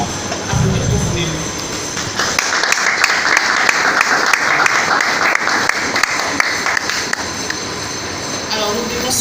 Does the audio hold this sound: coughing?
no